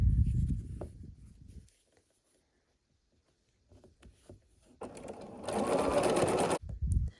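A sewing machine stitches quilt block squares in short bursts, a brief run at the start, a quiet pause with small handling clicks, then a longer, louder whirring run near the end.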